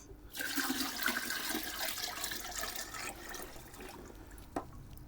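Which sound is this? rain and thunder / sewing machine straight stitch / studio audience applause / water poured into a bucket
water poured into a bucket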